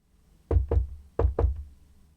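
Four firm knocks on a door in two pairs, each pair quick and close together, with a short pause between them.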